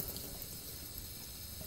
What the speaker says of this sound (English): And then just fill it up and all the soap bubbles will float to the top